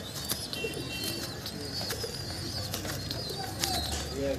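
Pigeons coo in a loft of prized Kolkata birds, soft repeated low coos close by against a busy background of other bird calls and chirps.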